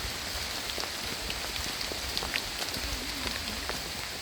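Heavy rain pours steadily in a mountain forest, making a dense, continuous hiss with scattered drops pattering close by.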